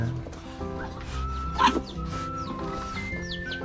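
Backyard chickens cluck softly on a rural farm, including a brooding hen, with steady low clucks and chatter mixed with nearby voices talking and some background bird calls.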